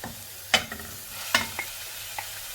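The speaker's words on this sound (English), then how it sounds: "now all we need to do is add in the mutton mince" Mutton mince hitting a hot pan while making spaghetti bolognese: a few sharp scraping and stirring clatters over a faint, low background sizzle, fairly quiet.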